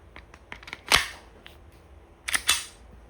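An Umarex Glock 17 Gen 5 .177 airgun fires two sharp, close snapping shots about a second and a half apart, with lighter mechanical clicks of handling scattered around them.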